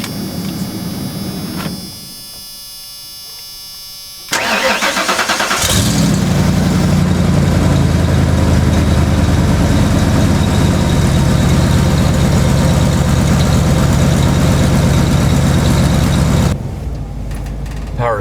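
A Ford Econoline van's 5.8 V8 cranks and fires after a brief quiet pause, then settles into a loud, steady, close idle that runs for about twelve seconds before cutting off abruptly.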